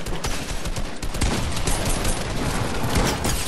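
Rapid, continuous bursts of gunfire fill the scene, a loud dense rattle of automatic shots with no pause, like a firefight in a shooter game.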